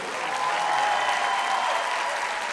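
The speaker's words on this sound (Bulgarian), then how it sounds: "Нека чуем вашите аплодисменти за другите наши приятели" A concert audience at a folk ensemble's anniversary show applauds in a dense, steady wash of clapping that holds evenly from start to finish.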